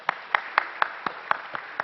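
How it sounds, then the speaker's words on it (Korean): A church congregation at a Sunday morning service claps in unison, about eight sharp, evenly spaced claps in a quick steady rhythm, fairly faint and heard alone. "우리 박수로 한번 격려하십시다."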